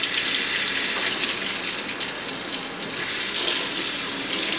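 Cold tap water pours steadily into a sink while a shisha bowl is rinsed, a continuous close splashing hiss with slight changes as the stream hits the bowl.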